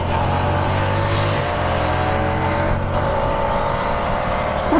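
A 2022 Hyosung GV300S motorcycle with a quiet stock exhaust rides at a steady cruise, its low engine hum and even drone continuous and close, with road and wind noise over the top.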